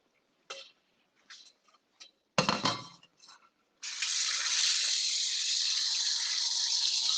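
Warmed heavy whipping cream with cheeses mixed in is poured over chicken. A few light clinks and taps come first, then a steady, fairly loud pouring wash runs alone to the end.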